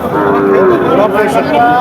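A Red Sindhi cow moos loudly and close by at a cattle market, one drawn-out call with a rising tail.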